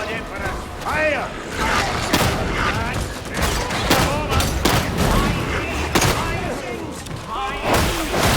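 Rapid gunfire and heavy booms from a Veteran Enforcer's shotgun in Warhammer 40K Darktide on Damnation difficulty, loud repeated blasts over constant battle noise with shouted voices throughout.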